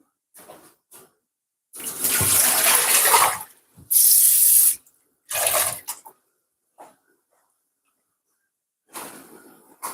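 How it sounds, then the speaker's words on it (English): Fresh spinach for beef soup is lifted out of a bowl of water, giving close bursts of splashing and running water separated by quiet pauses, with no talking. "just going to remove it out the water"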